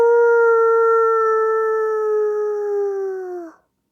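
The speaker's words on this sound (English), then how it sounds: "howling in the distance" A single long, steady howl of a dog or wolf, holding its pitch for about three and a half seconds before sliding down and cutting off, clear and sustained against a silent background, with no voices.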